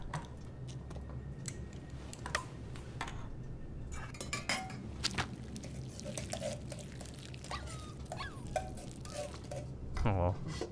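Dishes and cutlery clink while a meal is prepared in the game Life is Strange 2, with scattered light taps and clatters over a low steady background hum.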